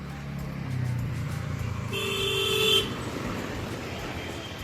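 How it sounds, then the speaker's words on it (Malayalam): On a busy main highway in Uttarakhand, a steady wash of passing traffic is broken by a single car horn blast about a second long, heard near and fairly loud above the road noise. "ഇതാണ് മെയിൻ റോഡാണ് ഇവിടെ ഹൈവേ ആണ് കേട്ടോ രണ്ടേ ആയാലും വണ്ടികൾ ഒരുപാടുണ്ട്"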